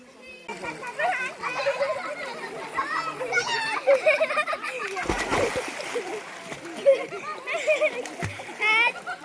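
Cold mountain-sourced water pouring from a hose splashes and sloshes in uneven bursts, close by, mixed with children's voices and playful chatter.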